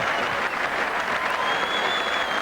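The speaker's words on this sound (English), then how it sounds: "And the crowd is shouting yes, and it is yes" A rugby league crowd at Wigan versus Bradford roars and applauds after a score, a dense, sustained wall of cheering and clapping from a large stand, with a commentator's voice faintly beneath.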